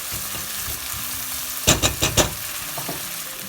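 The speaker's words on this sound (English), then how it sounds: "Stir it for a couple of minutes" Roasted tomato wedges frying in a Goan crab xec xec curry, a steady sizzle under four sharp scraping stirs in close succession, then softer scrapes.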